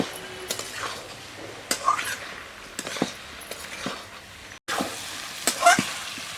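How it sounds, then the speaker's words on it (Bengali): Black cumin seeds sautéed and stirred in a hot pan while cooking dried fish with kochu stems: a soft sizzle under scraping strokes and occasional spoon clinks against the metal, close and fairly quiet. "কালো জিরেটা দিয়েও ভালো করে কষে নিতে হবে।"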